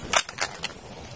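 A toy cap gun fires three quick sharp pops in close succession, loud and close, with no voices.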